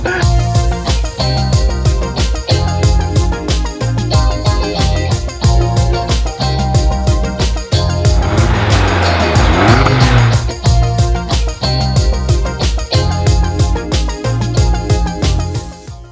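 A McLaren P1 LM driven hard, with loud engine roar and rapid gear-change pulses running through the whole stretch and a brief tyre-squeal or skid burst near the middle, up close and without talk.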